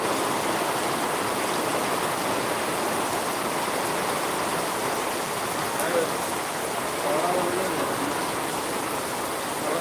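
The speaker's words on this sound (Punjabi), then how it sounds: "ਪਰਨਾਲੇ ਦੇਖੋ ਪਰਨਾਲੇ ਕਿਵੇਂ ਚੱਲਦੇ ਆ ਦੇਖੋ ਪਰਨਾਲੇ ਪਾਣੀ ਦੇ" Heavy, steady rush of water pouring and splashing, like rain spilling from roof spouts, a dense continuous wash of noise.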